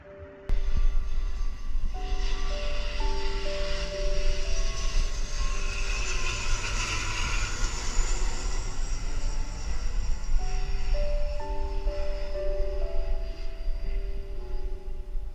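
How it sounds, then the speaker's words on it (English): A loud, continuous jet roar swells and fades as an aircraft passes overhead on approach to Koh Samui, with a simple melody playing underneath. "And then came the continuous parade of noisy aeroplanes flying into Koh Samui."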